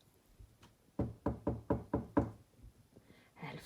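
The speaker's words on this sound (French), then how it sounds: "Elle frappe doucement à la porte." Six crisp knocks on a door come in a quick, even run, close and clear against a quiet background.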